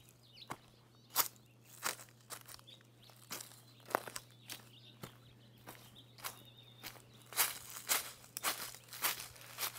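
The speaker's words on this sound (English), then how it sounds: "So maybe we will crunch some leaves." Dry leaves crunch underfoot on a ranch in a series of crisp, uneven steps, close and moderately loud, with faint birdsong and a steady hum behind.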